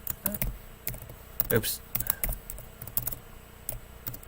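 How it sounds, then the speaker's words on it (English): Rapid, irregular clicking and tapping of computer keys at close range, with bursts of quick keystrokes and a brief spoken interjection partway through. "Can I stop typing random stuff?"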